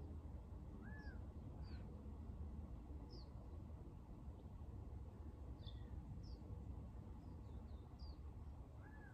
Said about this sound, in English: maybe noticing the bird sounds from my backyard